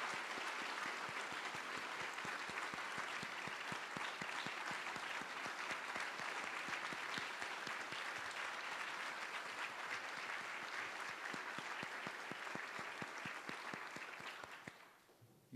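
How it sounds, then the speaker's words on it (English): Sustained, dense audience applause for Bill Saxon at a University of Oklahoma honorary doctorate ceremony, a steady crackle of many hands clapping that holds evenly for about fourteen seconds before quickly tapering off. "give Bill Saxon another round of applause for his love for the university"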